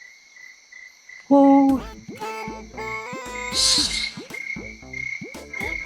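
A jiji buka, a small frog or insect, calls very close by in a rapid series of bright, chirping croaks, loud and near, with a short human utterance partway through.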